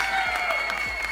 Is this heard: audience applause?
yes